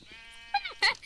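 Two short bleats from a sheep in a video game, the first thin and wavering, the second louder and harsher, heard near and alone over a faint background.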